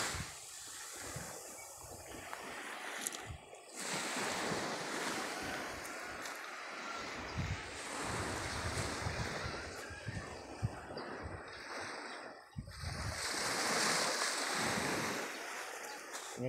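Ocean surf washes along a long shoreline in Antique, Philippines, as soft, continuous wave noise that swells and recedes, mixed with gusty wind buffeting the microphone.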